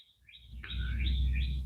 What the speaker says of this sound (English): And you hear the birds too? And the birds are saying hello to you.